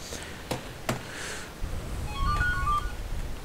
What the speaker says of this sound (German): Warum ausgerechnet jetzt das Telefon?